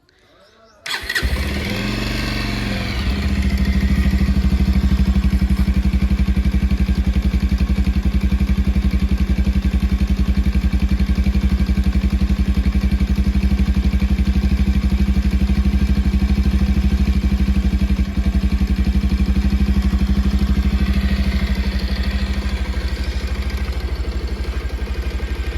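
A new BS 6.2 motorcycle starts with a brief crank and then catches into a steady, loud idle. The engine keeps running evenly and close by for over twenty seconds.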